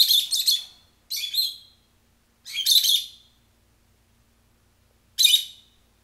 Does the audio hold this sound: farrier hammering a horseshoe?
no